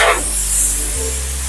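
Car floor mats from a Maruti Suzuki Fronx are sprayed during servicing at a Nexa workshop in Hosur, giving a short, close burst of spray hiss that trails into a steady hiss over a low hum.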